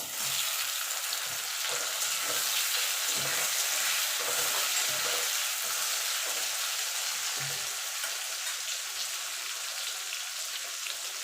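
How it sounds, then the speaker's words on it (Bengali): Onion and tomato frying in hot oil for a Bengali tilapia curry, a steady close sizzle with soft stirring scrapes throughout, no talking. "পেঁয়াজটা লাল লাল করে ভাজা হয়ে গেছে এবার টমেটোটা দিয়ে দেবো"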